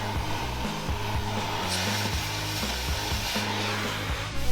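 A power tool cuts through bolts on a transfer case skid plate under a supercharged Ford Bronco II, giving a steady, loud, gritty whine with a pulsing low rumble that runs unbroken through the whole stretch.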